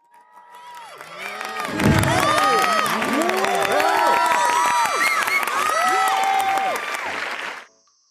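A crowd cheers and whoops loudly from a Yamaha Remote Cheerer promotional clip, swelling in over a second then holding a dense roar of shouts, applause and high excited voices before cutting off abruptly.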